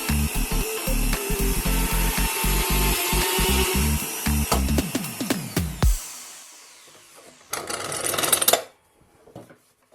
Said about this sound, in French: je perce un trou à travers.